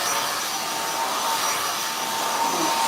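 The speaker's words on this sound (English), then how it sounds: "I want y'all to watch how long it actually takes you to blow dry her hair" Close, loud hair dryer on heat blowing through thin hair, a steady whooshing roar with a constant high motor whine and no pauses.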